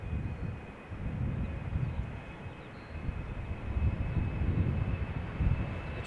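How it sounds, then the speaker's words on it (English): An Embraer 190 jet on KLM flight 1151 approaches at Schiphol Airport, a distant, low, broad engine rumble that swells and eases gently with light wind noise. "The Embraer 192 Trondheim is coming this way."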